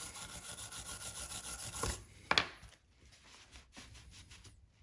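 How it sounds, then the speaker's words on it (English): A brush scrubs carbon and blast residue off a weapon light with a steady, close scratchy rubbing that stops after two seconds. Fainter scraping strokes follow. "So we're going to just keep rubbing on that a little bit more."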